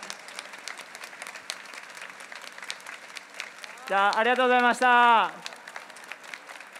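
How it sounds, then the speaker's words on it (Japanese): Applause at a Kawasaki Frontale fan appreciation day, scattered clapping from the crowd, with a person speaking loudly over it for about a second midway. "皆さんもう一度大きな拍手をお願いします"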